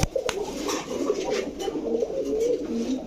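A Rampuri pigeon pair coos continuously with soft, rolling calls close by, steady throughout with no talk.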